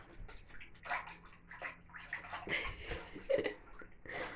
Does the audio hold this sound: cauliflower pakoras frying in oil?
no